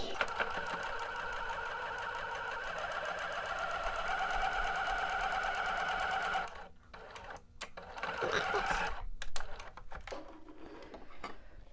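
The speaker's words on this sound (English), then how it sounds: "to make our top stitch on our pockets" Sewing machine topstitching pockets on a bodice, a long continuous motor whir and needle clatter, then a brief pause with a few clicks before stitching resumes; close, with some talking faintly over it.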